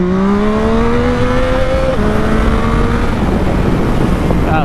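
A motorcycle engine revs hard in gear as the rider accelerates to lift the front wheel into a wheelie. The pitch climbs, drops briefly at a shift and climbs again, loud and close.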